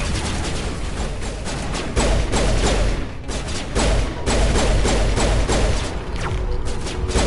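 Sniper gunfire in Mass Effect 1 pounds through a dense, loud battle din, with repeated sharp cracks and heavy thuds landing close together over constant roaring noise, with no talk.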